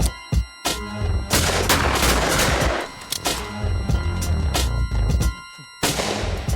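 Loud, close shotgun blasts at an outdoor shoot ring out in a dense, irregular series of sharp booms with brief gaps, some overlapping in quick succession.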